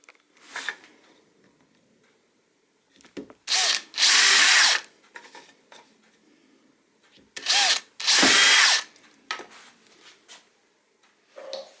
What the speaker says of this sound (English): you do need to drill a hole in the back plate